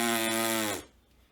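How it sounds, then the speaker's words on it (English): A trumpet player buzzes the lips without a mouthpiece, producing a close, raspy, reedy drone that holds steady for under a second and then stops abruptly. "So a lip buzz sounds like this."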